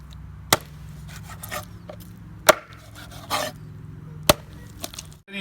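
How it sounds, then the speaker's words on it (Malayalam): Chicken being chopped into large pieces for dum biryani, several sharp, loud, isolated knife chops striking a board at irregular intervals, with softer handling noises between them. "നമ്മൾ ആദ്യം തന്നെ ആ ചിക്കൻ ഒന്ന് നമുക്ക് നുറുക്കിയെടുക്കാം."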